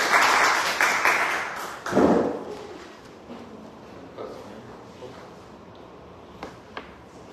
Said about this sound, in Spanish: un aplauso a la doctora Estefanía